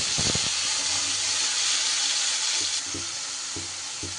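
Spice paste for a bottle gourd curry sizzles loudly in hot salted oil, a steady close frying hiss with a few soft stirring knocks, and no voices.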